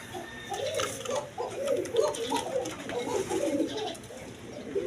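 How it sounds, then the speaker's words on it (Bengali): A pair of Rajgolla pigeons coo repeatedly in soft, rolling, throaty phrases that run continuously and close at hand, with faint background chatter. "এখানে এক পেয়ার রাজগোল্লা কবুতর আছে"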